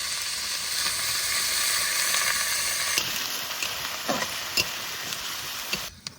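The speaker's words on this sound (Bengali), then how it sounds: "পেঁয়াজ আর রসুন একটু ভেজে নিয়েছি।" Onion and garlic paste fries in hot oil in a village kitchen, a steady loud sizzle that shifts partway through, followed by scattered crackles and stirring scrapes.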